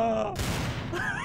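Gunfire in the Trouble in Terrorist Town game, a short dense burst of shots crowding the middle of the moment, loud and close, with excited voices speaking around it.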